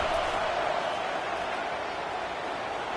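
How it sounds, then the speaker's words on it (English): A packed stadium crowd roars steadily on third down in a Michigan vs USC college football video game, a dense sustained wash of cheering without clear peaks. "3rd down, and this crowd is bringing down the house."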